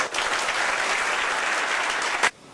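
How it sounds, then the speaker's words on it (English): Strong, sustained audience applause at a finance conference keynote, dense and even clapping from a large crowd that stops abruptly near the end. "Please join me to congratulate them with a very strong applause."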